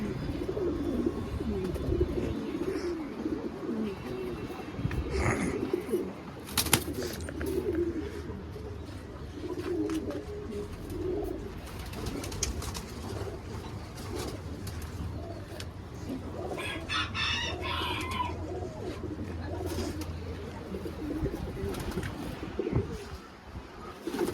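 Breeder pigeons in a loft coo on and off through the whole stretch, fairly close, mixed with rustling and other household background noise.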